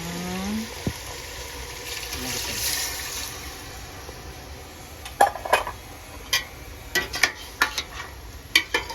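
Water draining from partly cooked rice for chicken biryani, a soft pouring rush at first, then a series of sharp metallic clinks and knocks of a pot and utensils.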